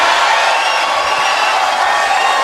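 A Detroit boxing arena crowd cheers in a continuous, loud roar of mixed voices ahead of the final round, with no single voice standing out.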